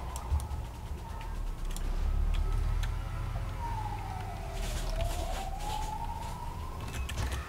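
An ambulance siren wails in Borderlands 2 gameplay, its pitch sliding down then rising again as it passes, over a steady low engine-like rumble and scattered clicks.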